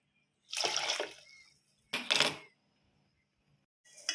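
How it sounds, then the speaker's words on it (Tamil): Half a cup of water poured into rice and jaggery for kalathappam, heard as two short splashing pours in quick succession, with a third beginning at the end, close by. "இந்த கப்பில் வந்து பார்த்திங்கன்னா 1/2 கப்பு வந்து தண்ணி ஊற்றிக்கலாம்."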